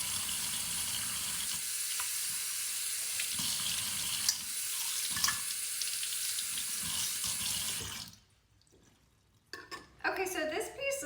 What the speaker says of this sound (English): So let me just give it a quick rinse.